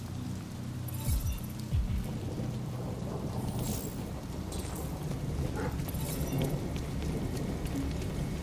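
Steady rain and rumbling thunder from a thunderstorm in the video game Detroit: Become Human, a continuous loud wash with low rolls of thunder throughout and no talking.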